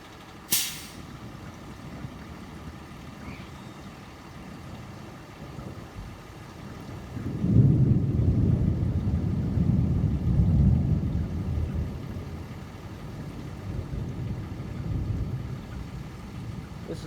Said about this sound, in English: This is a mean thunderstorm right here.